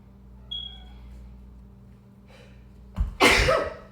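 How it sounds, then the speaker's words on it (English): A single sharp sneeze bursts out near the end during a yoga headstand, preceded by quiet breathing and a faint short tone in an otherwise calm room. "Whoa, I never sneezed in headstand before, that was a little crazy."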